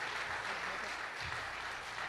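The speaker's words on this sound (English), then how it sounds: "Give a round of applause for our performance here today." Audience applause at a Warriors Call event in Buffalo, New York: steady, dense clapping filling the whole stretch, fairly close and even, with no clear break.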